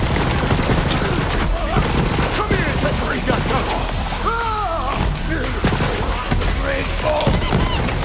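Gunfire in the video game Borderlands 3 rattles in rapid, dense bursts and repeated shots throughout, loud and continuous, with voices talking over the shooting.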